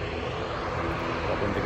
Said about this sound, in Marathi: तिथं प्लेन आलेलं आहे. तर आवाज खूप खतरनाक करते ते.